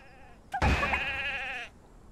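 A sheep in the video game Miitopia lets out one long, wavering bleat, loud and close, lasting about a second before cutting off into quiet.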